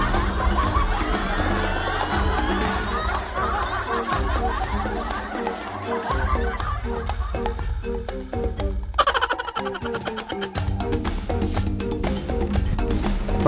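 Chickens clucking and cackling around a roadside poultry farm, a steady busy chatter of several birds with a brief higher tone partway through.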